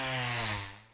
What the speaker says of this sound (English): You can probably hear a chainsaw going right now.